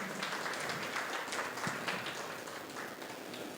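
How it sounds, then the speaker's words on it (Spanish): A church congregation applauds at a worship service, steady clapping filling the room at a low level, dense and continuous with a few sharper claps standing out. "Damos un fuerte aplauso al Señor"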